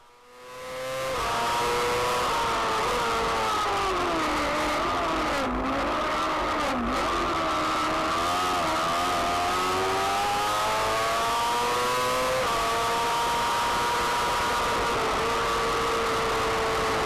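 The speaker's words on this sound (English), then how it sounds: "we are now on board with Chris Schofield and Shane Colebrook chasing down Atkinson and Middleton" Onboard a F2 racing sidecar at Anglesey during a British sidecar championship race, the engine screams loud and close throughout, its pitch rising and falling through gear changes and corners, with no voices.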